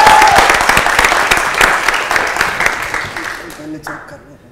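Loud, dense audience applause for Veer Savarkar at a Zee Switch Cafe interview with an actor, strongest at the start and thinning toward the end, with voices rising over the clapping.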